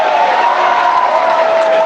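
Crowd at a political speech in Canada cheers and claps without a break, loud and close, a dense wash of voices and hands that holds steady and cuts off abruptly.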